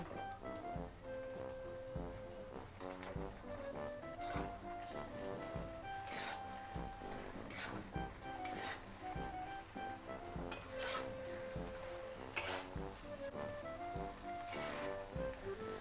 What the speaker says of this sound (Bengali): এবার সেদ্ধ করে রাখা কাবলি চানাটা ওর মধ্যে দিয়ে দিলাম এবার একটু কষিয়ে নেব